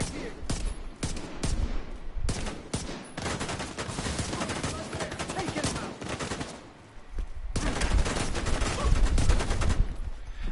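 Rapid bursts of automatic gunfire in the video game Division 2, sharp repeated volleys with brief pauses between them, loud and close throughout.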